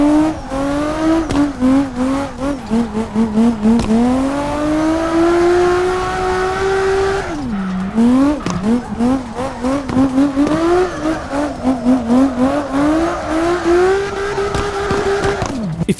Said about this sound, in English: The engine sounds, especially given how often drifting has you banging off the rev limiter,